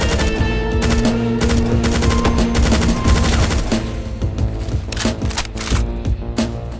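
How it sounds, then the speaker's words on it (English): Gunfire in Doom with the Project Brutality mod on the TNT: Evilution map Storage Facility: loud, dense, continuous rapid shooting up close over a heavy low rumble, easing slightly toward the end. "Alright, who is shooting?"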